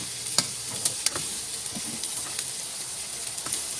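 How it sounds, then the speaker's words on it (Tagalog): String beans sautéing and being stirred in a pan with their aromatics, a steady close sizzle and hiss with occasional scraping clicks of a utensil against the pan. "igisa po natin yung ating sitaw sa kanyang sahog."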